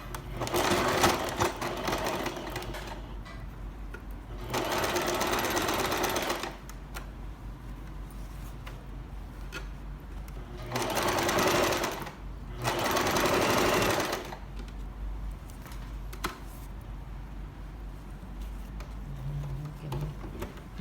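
A sewing machine stitches a blouse seam in several separate bursts, each a few seconds long. The rapid, even clatter sounds close and stands out against a quiet room with faint background noise.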